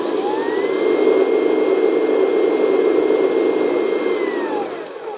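A 1/10 scale off-road RC truck with a two-speed transmission runs its electric motor in low gear, a steady, fairly loud whirring drone with a faint rising and falling whine held for several seconds, no voices.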